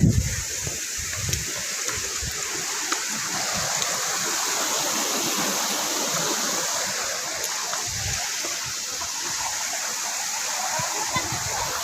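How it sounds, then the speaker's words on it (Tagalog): River water pours over Langit-Langit Falls in a continuous, dense rush, loud and close, with no breaks. "yung tubig na yun na yun, pahulog doon sa Langit-Langit Falls"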